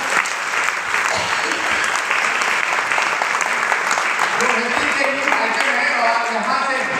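An audience at a business meeting gives loud, sustained applause, a thick continuous patter of many hands nearby, with a voice briefly heard underneath toward the end.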